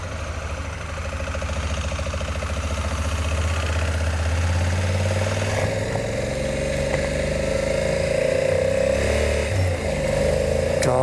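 A 2022 Honda Africa Twin motorcycle engine runs steadily and close by for the whole stretch, a low throbbing idle with a mid-pitched drone that rises slightly partway through, with no talking over it.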